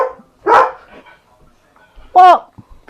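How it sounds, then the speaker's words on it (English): A dog barking at a cat gives two sharp, close barks about one and a half seconds apart, with quiet stillness between them. "Stop barking at the cat, you silly dog."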